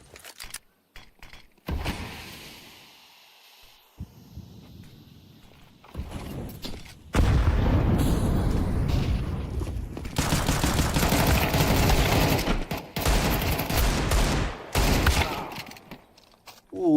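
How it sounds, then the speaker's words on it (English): Pistol fire from a Desert Eagle and a Five-SeveN during a Counter-Strike pro match on the B site, bursts of sharp shots mixed with game noise under a caster's excited commentary. "the Deagle of Rendi and that 5-7 though of ROSOMAHA on the B-side take"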